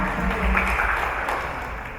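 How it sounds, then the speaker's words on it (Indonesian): Audience applause for Ahmad at an election-literacy workshop, a dense, steady patter of many hands filling a room for about two seconds. "Tepuk tangan dulu dong buat Ahmad"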